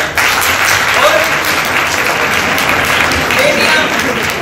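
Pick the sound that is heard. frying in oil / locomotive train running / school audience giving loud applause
school audience giving loud applause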